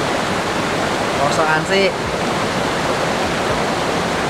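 Klewer waterfall in Kediri pours with a loud, steady broadband rush of falling water that fills the whole clip, while a person speaks briefly over it.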